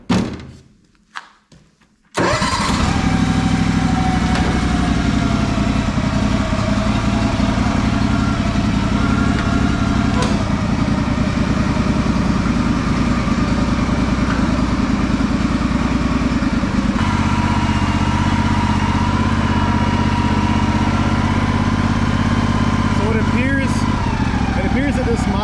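A Honda 4118 lawn tractor engine starts with a thunk after a few clunks and then runs loud and close. Its uneven idle sputters and shifts pitch partway through.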